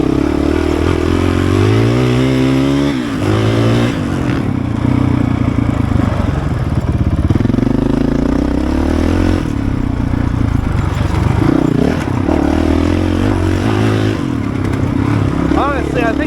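A Honda CRF450RL enduro motorcycle runs on a dirt track, its engine droning loudly and steadily throughout, rising and falling in pitch as the rider works the throttle, with clattering and scraping mixed in.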